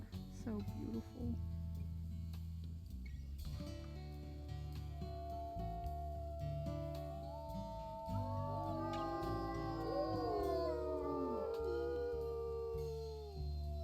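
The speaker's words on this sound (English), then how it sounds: "I'm just hearing this many howls" A wolf pack howling together, several long wavering howls overlapping and rising in pitch, with low steady background noise and people talking quietly over them.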